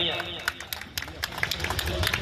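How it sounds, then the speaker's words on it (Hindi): Loud audience applause for a welcomed guest at a Bihar political event, scattered sharp claps coming in uneven bursts beneath an announcer's voice. "इनके लिए जोरदार तालियां।"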